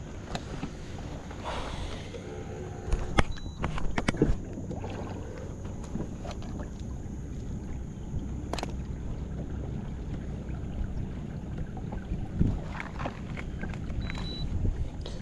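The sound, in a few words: kayak moving on water in wind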